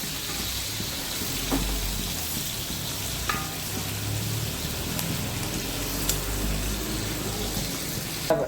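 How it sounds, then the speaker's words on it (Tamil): Fish frying in a pan on a home stove gives a steady, close sizzle that runs the whole way through, with a few faint clinks and stirring sounds and no talking. "அப்படியே பக்கத்தில் பார்த்தீங்கன்னா மீன் வறுத்துட்டுருக்கோம்"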